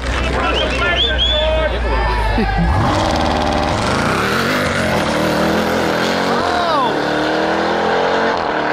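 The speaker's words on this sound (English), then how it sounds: "Oh, a little squeal there." A drag race car does a burnout at a drag strip, with a loud engine roar, rising revs and a brief high tire squeal. Crowd chatter and voices run underneath.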